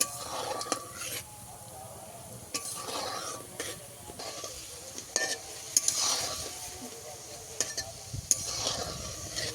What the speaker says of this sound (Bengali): এখানে মিষ্টিগুলো আমি দুবারে ভাজবো